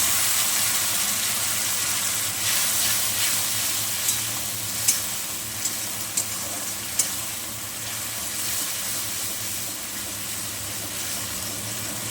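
A paste of ginger, garlic, green chili and tomato sizzles and fries steadily in a hot pan, with a few brief clicks of stirring partway through and no voices.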